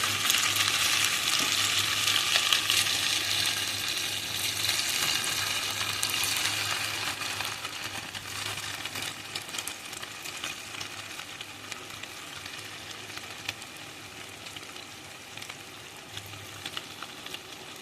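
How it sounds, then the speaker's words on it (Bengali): Semolina sweets fry in very hot oil over a high gas flame, giving a loud, steady, crackling sizzle that hisses continuously and eases slightly toward the end. "এটা কিন্তু গরম তেলেতেই কিন্তু ভাজতে হবে"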